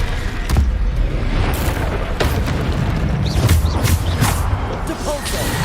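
Spell impacts from the Descendo casting in the video game Hogwarts Legacy, dense booming hits over a constant rumbling game soundscape, with a voice talking throughout.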